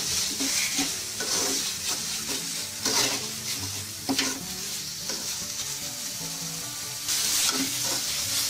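Crab pieces sautéing in a pan for a crab malai curry, with a steady loud sizzle and repeated scraping stir strokes recurring throughout, no talking.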